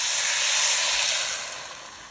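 Chicken broth hits a hot pan with a loud, steady hiss and sizzle that holds for about two seconds and slowly fades, with no talking over it.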